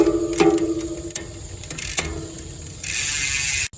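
A bicycle pedal turns and the freewheel ratchets, giving a few quick clicking bursts close up, then a steadier buzzing ratchet toward the end.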